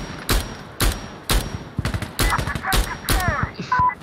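A G3A3 battle rifle fires in the video game Insurgency Sandstorm as a string of sharp, loud, close shots in irregular bursts of single and paired rounds, with a brief odd squawking sound near the end.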